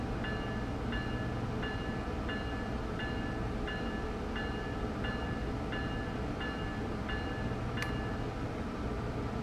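A Boston Sprinter train runs in Train Sim World 2 with a steady, droning rumble. A regular electronic beep repeats about every second, and a short sharp click comes near the end.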